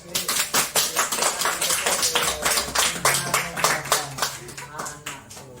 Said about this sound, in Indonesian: Beri tepuk tangan kelompok B.